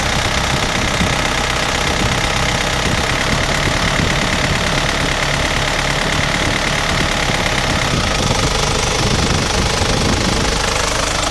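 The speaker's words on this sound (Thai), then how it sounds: "นี่ก็ติดเครื่องแป๊บเดียวเองยังไม่ทันได้ร้อนเลย" Car engine idling cold right after starting, with oily fumes puffing from the breather, a loud close continuous rumbling idle with a rough knocking pulse and a brief change in tone toward the end.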